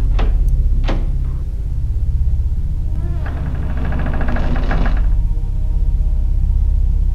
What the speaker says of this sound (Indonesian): pintu terbuka dengan sendirinya.